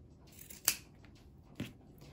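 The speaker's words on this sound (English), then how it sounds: "I'm cutting the red off the top." Scissors snip through a knit cotton sock in two separate crisp cuts, close and clear against a quiet room.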